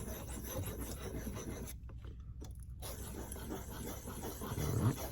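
A homemade knife blade is drawn across a sharpening stone in steady, close rasping strokes, a continuous gritty scrape with a brief pause partway through.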